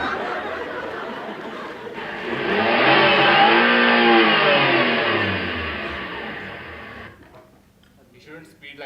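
A staged stage effect of a car revving and speeding away, a loud engine roar that swells mid-clip with a pitch sweep as it passes, then fades out, followed by a quiet pause and faint stage murmurs.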